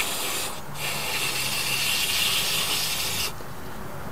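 Spray car cleaner is applied while a Honda XL600 dirt bike is scrubbed clean, producing a loud, close hiss for about three seconds with rubbing underneath, then fading to a softer wash.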